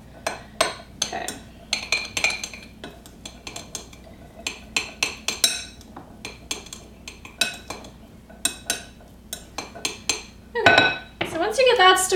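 A spoon scrapes and clinks against a bowl while black beans are stirred with a little olive oil, giving irregular sharp clinks and knocks in quick bursts with brief pauses between.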